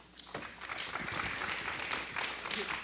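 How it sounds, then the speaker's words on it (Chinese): Audience applause at an energy conference, steady broadband clapping from a seated crowd that holds evenly throughout, fairly distant and moderately quiet. "掌声欢迎。"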